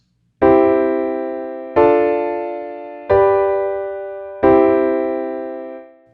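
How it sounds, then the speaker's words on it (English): Four sustained chords of a 2-5-1 progression are struck one after another, each ringing out and slowly fading before the next, with nothing else heard. "Here's another one, the 2-5-1 progression."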